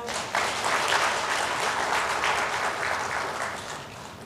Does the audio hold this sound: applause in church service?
yes